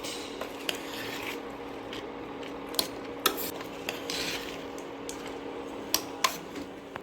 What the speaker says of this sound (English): Give it a good mix such that all the vegetables, the masala we have prepared and the rice is mixed well with it.